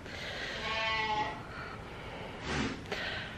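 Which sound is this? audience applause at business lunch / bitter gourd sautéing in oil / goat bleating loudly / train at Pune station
goat bleating loudly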